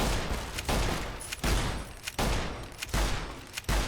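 Rapid gunfire in Fallout: New Vegas, several loud close bursts of shots at a regular rhythm separated by short gaps, with no talk over them.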